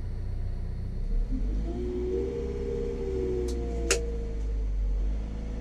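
A Multihog CV 350 street sweeper's engine runs at a steady mid-pitched rumble, rising slightly as the vehicle is shifted and driven off, with one sharp click partway through; no one speaks.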